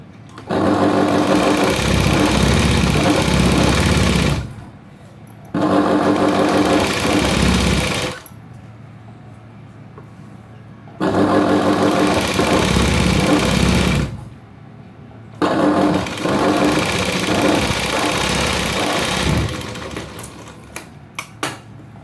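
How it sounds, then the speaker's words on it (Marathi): A sewing machine stitches a blouse waistband in four long, loud bursts of several seconds each, separated by short pauses, close up and steady. "कमरपट्टीला आपला पहिले अगोदर ही शिलाई मारून घेऊया आपण"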